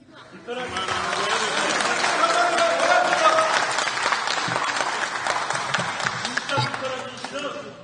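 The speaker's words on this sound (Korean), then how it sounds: "서로 박수치기 시작하시면 본회의장 질서 유지에 문제가 있으니까 박수를 자제해" Applause fills the National Assembly plenary chamber, a dense wash of many hands clapping steadily for several seconds, fairly close and loud, with faint crowd murmur beneath and no clear speech.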